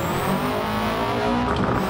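A Subaru race car's engine in Gran Turismo 7 drones steadily at high revs, with dense, continuous engine and road noise and no talking.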